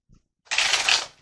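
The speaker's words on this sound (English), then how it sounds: "Sorry if the cards are a little loud. They are brand new." A brand new tarot card deck being shuffled close up: a faint tap, then one crisp, loud riffling burst of stiff cards lasting about half a second before it trails off.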